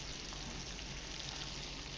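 Gravy and browning braciole spatter in a hot pan, a steady, dense crackle and sizzle filling the whole moment at low volume with no talk.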